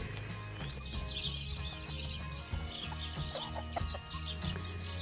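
Hens clucking in a farmyard henhouse as they are let out in the morning, a steady mix of soft clucks and calls with some rooster-like notes, fairly close and continuous with low rustling underneath.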